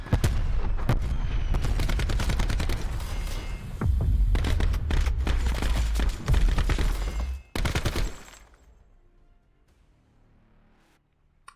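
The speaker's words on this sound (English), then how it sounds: "Shooting bots" Loud, dense gunfire from shooting bots in the video game Blackout, with sustained bursts and heavy low rumble for about eight seconds, then cutting off abruptly to near silence.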